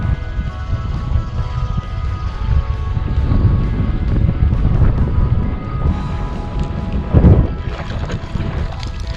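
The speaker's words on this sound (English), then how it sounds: "Got the wind in my face." Wind rushes steadily past on open water during kayak fishing on the Chesapeake Bay, a loud, continuous buffeting roar with faint water lapping beneath.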